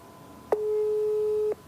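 A single steady telephone tone, loud and clean, rings for about one second after a click while a mobile number in Iran is dialled, with a quiet line hiss before and after.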